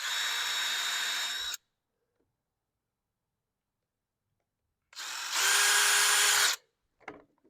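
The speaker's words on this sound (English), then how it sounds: "I'm going to drill a quick pilot hole here and here." Two bursts of a power drill whirring at close range while drilling pilot holes for a table saw box joint jig, the first about a second and a half, the second longer with rising pitch, separated by silence.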